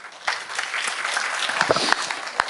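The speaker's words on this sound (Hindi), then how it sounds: "जोरदार तालियां।" A workshop audience at a happiness and wellness session claps loudly in a dense, continuous wash of hands, with a few sharper individual claps standing out near the end.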